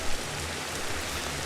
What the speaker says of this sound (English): even though it's raining, we don't have any loss of capability